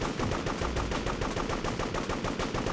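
Rapid gunfire from the video game Devastation, a dense, continuous burst of automatic shots in a fast even rhythm, loud and unbroken for the whole stretch.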